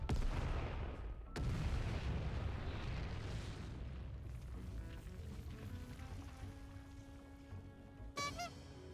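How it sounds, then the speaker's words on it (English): A bomb blast in Final Fantasy XIV: Dawntrail, a heavy booming explosion with a long rumbling decay, followed by fading debris and tonal effects and a brief sharp sound near the end. "That's a bomb, or I was born yesterday."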